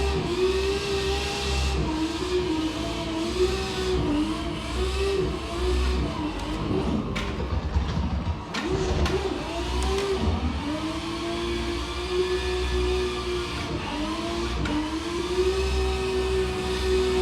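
A race car engine in a VR racing game played on a SIMAGIC sim-racing rig, a steady loud revving drone that rises and falls with gear shifts, running continuously with no talk.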